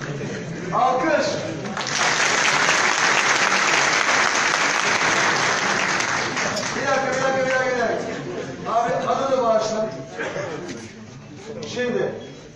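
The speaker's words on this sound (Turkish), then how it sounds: "Alkış." A large crowd at a Turkish political rally in Keşan applauds loudly and steadily for several seconds, then the clapping thins as cheering voices and shouts rise over it.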